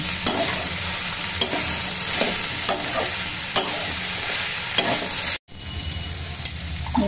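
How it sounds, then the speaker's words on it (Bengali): Ingredients for a vegetarian Bengali dish frying and being stirred in a pan, with poppy-seed water poured in: steady hiss with repeated spoon scrapes, then a brief hush and a louder burst of sizzling near the end. "এবারে গরম জল দিয়ে দেবো।"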